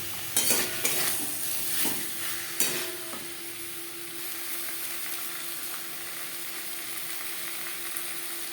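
Potatoes with spices frying in a pan for a fish curry, with a few scraping stirs of a spoon early on followed by a steady low sizzle that continues on its own.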